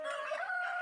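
A brief bit of crowing and clucking from local Giriraj chickens and a rooster on a poultry farm, one close fowl call ringing out clearly on its own.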